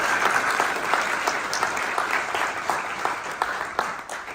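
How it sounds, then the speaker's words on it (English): Audience clapping in a room, a few seconds of brisk, even applause with individual claps audible as it gradually thins out. "So just clap it up for TC."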